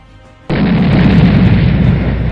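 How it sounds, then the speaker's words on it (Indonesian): A sudden loud blast kicks in after a short quiet lead-in and rolls into a sustained, rumbling barrage of animated grenade explosions raining down on a swarm of rat monsters, dense and booming with no let-up. "Granat bertubi-tubi menghujani kawanan monster tikus"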